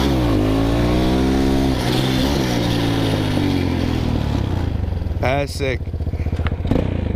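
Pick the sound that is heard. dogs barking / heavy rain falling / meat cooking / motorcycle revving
motorcycle revving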